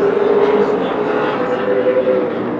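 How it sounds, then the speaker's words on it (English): Super late model race cars roar around an oval short track, a dense steady engine drone from several cars blending into a continuous loud wash with no clear breaks. "Great racing out here."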